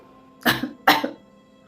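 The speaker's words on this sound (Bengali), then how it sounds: "কদিন ধরে আমার কাশিটা খুব বেড়েছে রে" An elderly woman gives two harsh coughs in quick succession, close and loud, with quiet in between and after.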